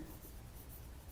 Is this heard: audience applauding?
no